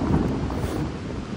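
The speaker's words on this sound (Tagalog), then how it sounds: "medyo mahangin ng sobra" Strong wind buffets an outdoor hilltop viewpoint, a steady low roaring rush of gusts battering the microphone, loud and continuous with no voices.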